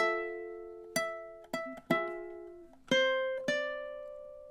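Ukulele picks out a short melodic phrase, a handful of plucked notes in uneven rhythm, each ringing and decaying, close and clear with no voices.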